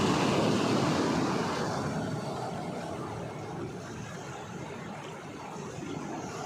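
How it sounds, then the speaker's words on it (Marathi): A broad, steady roar of sea surf at high tide on the Konkan coast rolls in the distance, swelling loudest at first then easing into a constant wash with no voices. "ही जी येते ह्याला समुद्राची गाज असं म्हटलं जातं"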